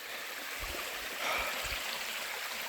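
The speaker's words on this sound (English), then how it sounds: "It's this little stream, and there should be a waterfall up there" A small jungle stream in Colombia flows in a soft, steady rush, with a few low thumps partway through and a slight swell midway, no voices.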